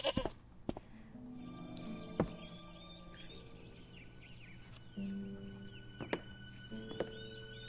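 A goat bleating in the Broken Sword: Shadow of the Templars video game, a few short bleats with gaps between, set over quiet background music and sharp percussive accents.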